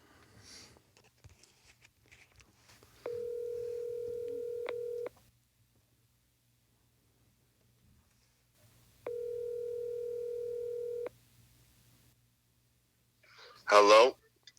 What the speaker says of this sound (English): let's see if we can get Kyle on the phone.